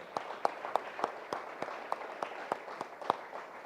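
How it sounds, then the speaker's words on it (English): Sparse, distinct handclaps from a small breakfast keynote audience, separate sharp claps at a loose irregular rhythm rather than a dense roar, moderately quiet in a room. "let's give a round of applause to everyone that's made this day possible."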